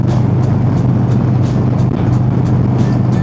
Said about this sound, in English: Bike's running great.